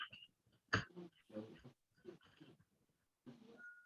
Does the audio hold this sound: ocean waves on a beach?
no